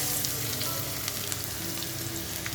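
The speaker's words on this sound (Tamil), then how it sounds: "இது கலர் மாறுற வரைக்கும் நல்லா வதக்கணும்" Ground paste of two large onions sautéing in a pan while cooking chicken gravy, a dense, even sizzle with occasional soft crackles, close and steady with no talking.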